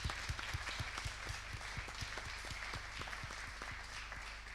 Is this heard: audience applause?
yes